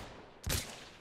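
A single burst of distant gunfire in Insurgency: Sandstorm, a short, muffled report fading quickly into background noise.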